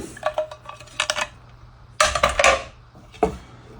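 Metal grill plates of a later-model George Foreman grill are handled, clattering and clinking in two or three loud, close bursts with short pauses between them.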